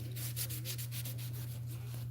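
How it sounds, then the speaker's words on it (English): Rusty parts being scrubbed clean by hand, a steady run of close, rhythmic rubbing strokes over a constant low electrical hum. "So I'm just kind of scrubbing it down and cleaning it."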